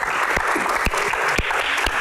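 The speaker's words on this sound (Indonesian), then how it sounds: "Tepuk tangan untuk box malam" An indoor audience at a Q&A event bursts into dense, loud applause. The clapping is steady throughout and has a few sharp, louder claps on top.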